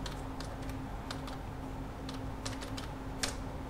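Typing on a computer keyboard while entering a file name, with scattered bursts of quick keystrokes of uneven rhythm over a steady low electrical hum, close and fairly quiet.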